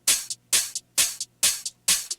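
An open hi-hat in a house track plays alone in a steady rhythm, five bright hissing hits, each followed by a short softer echo-like tail.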